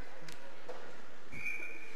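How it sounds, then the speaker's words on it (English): A referee's whistle blown during a college ice hockey game, Temple Owls versus Cornell Big Red, as one fairly faint sustained shrill blast over the rink's crowd noise. "And the whistle is blown."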